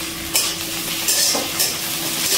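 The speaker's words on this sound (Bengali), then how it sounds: "টমেটোটা একটু হালকা ভেজে নেব।" A chopped medium tomato fries lightly in a pan, a steady close sizzle broken by several bright scraping stirs of a utensil against the pan, with no talking.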